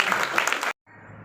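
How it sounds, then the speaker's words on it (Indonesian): An audience at a commemorative gathering in a pendopo hall in Blora claps in a brief burst of dense applause, which cuts off abruptly and leaves a faint hum of room noise. "Terima kasih Pak Chandra, tepuk tangan."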